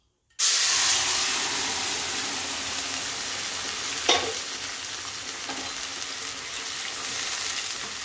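Boiled bottle gourd hits hot oil with cumin seeds, bay leaves and dried red chilli, bursting into a loud, close sizzle that settles into a steady hiss, with a brief clatter of stirring midway.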